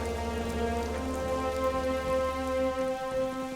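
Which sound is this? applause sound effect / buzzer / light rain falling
light rain falling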